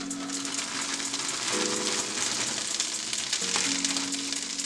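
Tricolor coleslaw cooking in hot oil for vegetable egg rolls, a dense, steady sizzle and crackle throughout, with a low hum in the background and no talking.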